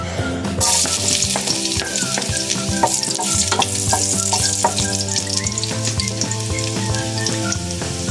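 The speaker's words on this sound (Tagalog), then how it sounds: "So pag mainit na siya, lagyan natin yung bawang." Garlic dropped into hot oil in a pan for pinakbet, a loud bright sizzle that bursts in early and crackles on steadily throughout, with faint tonal background sounds and no voices.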